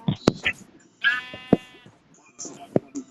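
A Minecraft sheep bleats in a short, clear call midway, set among sharp clicks and thumps of game play, with a faint voice in the background.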